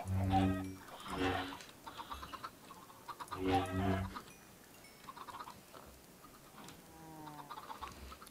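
Chickens cluck in a Minecraft survival game modded with FiskHeroes, with short bursts of clucking returning at intervals and quieter ambient game sounds between them. No one speaks.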